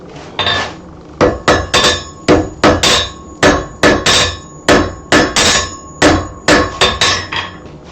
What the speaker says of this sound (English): Notice I don't keep it out and hammer very long until I get a really, really good weld.